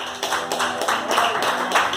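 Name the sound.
church congregation clapping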